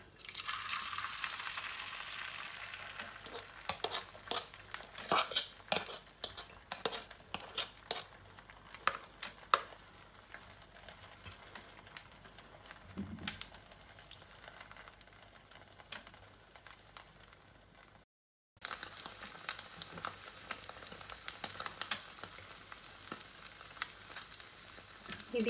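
An omelette sizzles and crackles in hot oil in a pan, a steady bright frying hiss running throughout with scattered sharp pops and one brief gap near the end, no talk over it.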